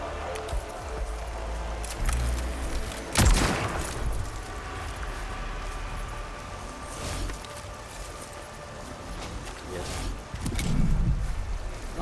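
Gunfire in the video game Warhammer 40K Mechanicus 2 crackles in sustained volleys with a sharp boom near the start, under a steady game soundscape, with no talk.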